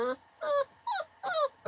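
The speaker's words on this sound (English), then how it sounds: "As you can see, I'm holding a puppy." A puppy being held whimpers and yips in four or five short, high, whiny cries in an even rhythm, close and moderately loud.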